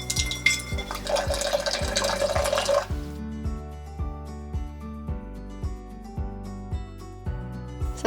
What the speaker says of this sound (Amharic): ውሃ ብረት ድስታችን ላይ እንጨምራለን።